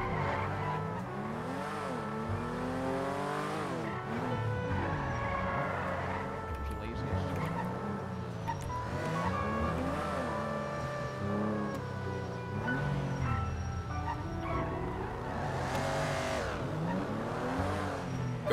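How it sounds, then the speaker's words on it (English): A struggling car engine in a video game strains and revs unevenly, pitch rising and falling repeatedly, with tires squealing and voices talking over it. "Car sounds like it wants to die."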